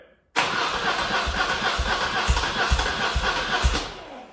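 A BMW R100RS motorcycle engine started in a warm garage with no choke and no throttle: the starter cranks with a rhythmic chugging of uneven pulses that does not settle into a steady idle, loud and close.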